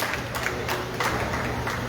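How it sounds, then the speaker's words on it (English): An audience gives a steady, dense round of applause for Brother David Mohammed at a Pan African festival evening in a club in San Fernando, heard as a continuous wash of clapping with no voices over it. "Let's give him a round of applause."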